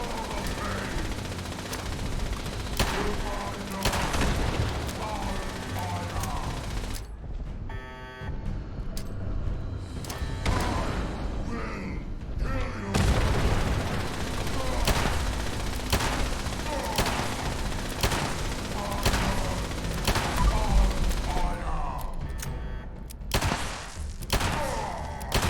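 Grenade explosions and gunfire during a Fallout 76 fight: repeated sharp bangs and thuds run over a dense, noisy battle din for the whole stretch, with some talking mixed in.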